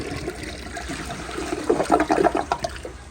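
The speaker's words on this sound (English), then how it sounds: "Alrighty, here is first flush." A 2007 American Standard Cadet 3 toilet flushes with a large siphon jet, starting as a steady rush of water and swelling into a loud, gurgling surge near the end, close to the microphone.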